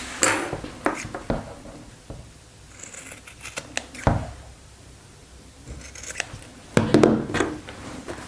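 Scissors snip and trim back a fabric seam and cut the corner on a chinos waistband, a scattered run of crisp close cuts and rustling handling with quiet gaps and no talking.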